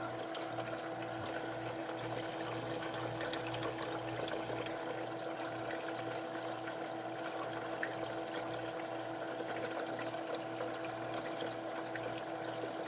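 Water pours steadily into a EUHOMY LunaArc countertop crescent ice maker, a continuous faint trickle blended with a low, even mechanical hum, with no talking.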